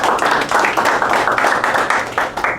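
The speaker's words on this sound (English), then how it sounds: "Again, round of applause." Steady applause from a crowd, dense continuous clapping holding at an even level for a few seconds.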